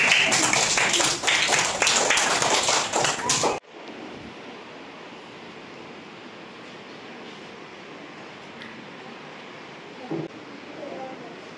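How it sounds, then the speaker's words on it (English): A kindergarten class claps together during a phonics reading lesson, a dense burst of many hands for a few seconds that stops abruptly, leaving quiet room tone. "Clap for them, everyone."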